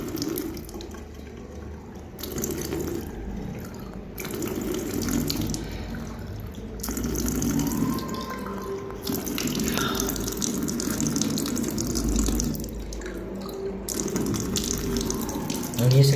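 Water runs steadily from a tap into a sink in a school washroom, a continuous splashing gush with small shifts in flow, heard close and moderately loud.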